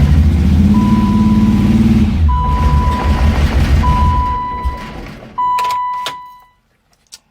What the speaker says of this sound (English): Really rough idle, but it started.